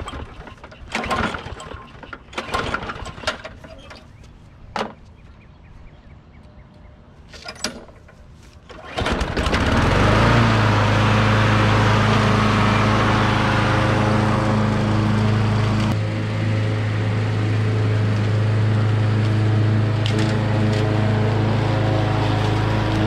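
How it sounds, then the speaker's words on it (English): A gasoline push mower without self-propel in a neglected yard starts and runs: after scattered clicks and handling noises, the engine fires up into a loud, steady droning hum that continues close by. "It's been a long time since I had a push mower."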